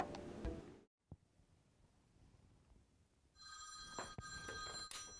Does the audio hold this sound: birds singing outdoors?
no